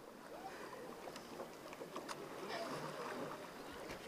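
Cambridge Bumps rowing race with a women's crew paddling on the river, a steady wash of water and oar strokes under a coxswain calling commands over outdoor ambience.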